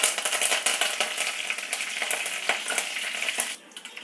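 Mustard seeds splutter and crackle in hot oil while sambar spices are tempered with fenugreek, urad dal, cumin and curry leaves, a dense run of sharp pops that ease off near the end.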